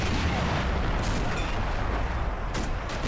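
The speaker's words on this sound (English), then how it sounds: "But a lot of artillery supporting them." Artillery fire in an Army Men toy-soldier war game, a dense rumbling barrage of booms and blasts running continuously throughout, with sharper cracks near the end.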